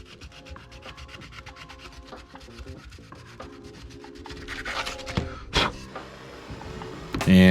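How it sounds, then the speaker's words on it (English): Hand sanding smooths the wooden handle of a restored axe just below the head, a rapid rhythmic scrubbing rasp up close, with a few louder knocks and scrapes near the end. "I'm going to start by smoothing out this area beneath the axe head so it has a uniform finish with the rest of the handle"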